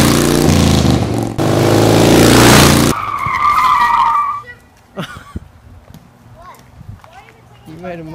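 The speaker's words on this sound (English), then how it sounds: "You made a tire mark when you put the brakes on, right there." Bicycle tire skids as a child brakes hard on the bike, a loud harsh scraping burst for the first few seconds, followed by quieter outdoor ambience with people talking.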